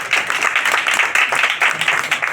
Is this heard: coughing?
no